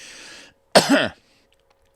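A single harsh cough rings out close by after a short stretch of quiet background noise, then silence.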